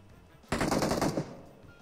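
A short burst of rapid automatic gunfire in the mobile battle-royale game PUBG Mobile, loud and close, starting abruptly and lasting under a second before tailing off.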